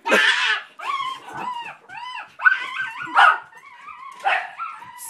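A pet dog barks, yips and whines in a quick run of close, loud bursts, with no talking over it.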